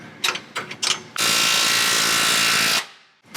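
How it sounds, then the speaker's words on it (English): A wrench works a bolt on a Toyota Tacoma side step, first with a few short separate ratchet bursts, then one long steady buzzing ratchet run, close and loud, with no talking. "You just got to flip your wrench back and forth."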